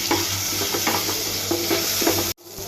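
Small prawns sizzle and fry in hot oil in a frying pan with spices, a steady loud crackle broken by stirring scrapes, cutting out briefly near the end.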